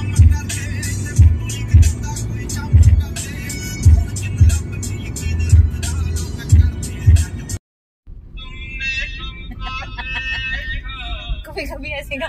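Road traffic with cars and motor vehicles driving past in a steady, fairly loud stream. Rhythmic engine and tyre noise is broken by a short gap, and voices talk over it.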